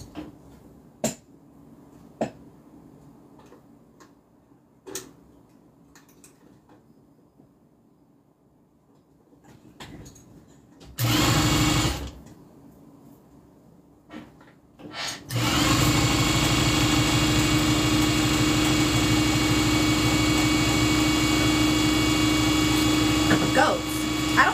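Sewing machine running steadily for about nine seconds at the end, loud and continuous, after quiet workroom sounds, a short burst of machine noise and scattered clicks.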